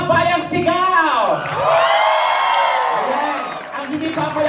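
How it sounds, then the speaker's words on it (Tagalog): An audience at a live rap and comedy show whooping, cheering and clapping loudly, a swelling burst of shouts and applause that peaks mid-way and then fades as a voice comes back in. "palakpakan naman sa Bayang Sigaw"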